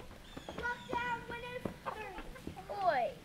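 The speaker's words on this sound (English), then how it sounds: "they just got back with the new hens" Newly arrived hens cluck and murmur nearby in short, uneven bursts, with a few higher squawks toward the end.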